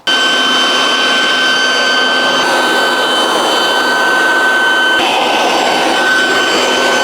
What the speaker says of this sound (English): So we're gonna grab this Dugay, the dryer.